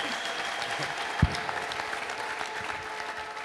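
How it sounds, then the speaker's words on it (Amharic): A church congregation applauds, a sustained, moderately loud spread of clapping with one sharp thump early on and faint voices underneath. "ለጌታ ክብር አጨብጭቡ።"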